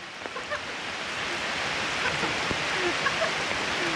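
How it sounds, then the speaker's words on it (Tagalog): Heavy rain pours down, a dense hiss of falling water that swells slightly louder over a few seconds, with a few faint scattered background sounds. "Lakas ng ulan"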